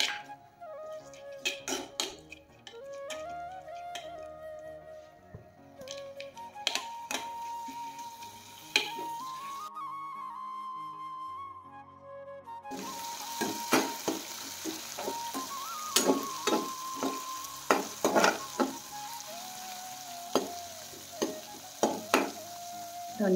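Black lentils and green chillies frying in a pan on a gas stove, a soft continuous sizzle broken by repeated scraping stirs and light ticking clicks, close and alone without speech.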